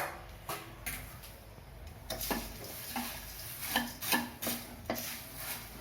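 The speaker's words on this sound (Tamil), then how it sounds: "பொரி எல்லாத்துலேயும் அந்த மிளகாத்தோடு பூண்டு படுற மாதிரி கிளறி விட்டுக்கணும்" Spicy puffed rice being stirred in a pan with chilli powder and garlic, giving soft dry scraping and rustling with repeated light clinks of a spoon against the pan, close and fairly quiet.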